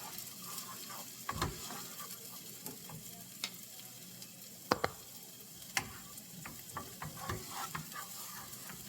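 Chopped half yellow onion and green onion stalk sautéing in butter in a pan, a soft continuous sizzle broken by occasional sharp utensil scrapes and taps as it is stirred, fairly quiet with no talk.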